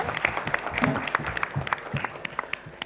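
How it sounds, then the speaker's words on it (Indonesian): Scattered applause from a small crowd at a high school quiz competition awards ceremony, light claps pattering irregularly for a few seconds. "Tepuk tangan teman-teman."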